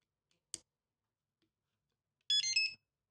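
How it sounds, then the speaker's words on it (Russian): A sharp click, then after a pause a loud, shrill electronic beep sequence of several tones lasting under a second as a HOTA T6 charger switches on. "Громко достаточно пищит при включении."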